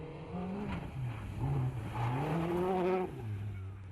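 A factory Renault Clio R3 rally car's engine revs and accelerates at a rally stage, its pitch rising and falling before dropping away, heard at moderate distance.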